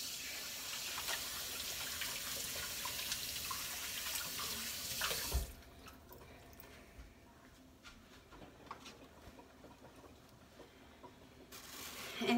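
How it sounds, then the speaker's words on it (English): A kitchen faucet runs in a steady stream while hands are rinsed before a pork butt goes into a crock pot, then the water shuts off, leaving faint clinks and handling noises. "Let me rinse my hands."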